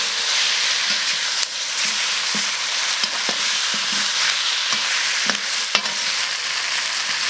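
Beef hooves and chili peppers stir-fried in a hot wok, a steady loud sizzle and hiss with scattered scraping clanks of a spatula against the pan.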